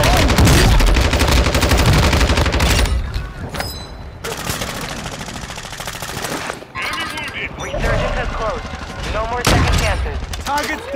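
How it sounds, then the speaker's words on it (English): Gunfire in a shooter video game, dense bursts of automatic and rapid shots layered with booms, loud and nearly continuous, easing briefly before resuming, with teammates talking over it. "Shoot it, shoot it. All you gotta do is shoot it."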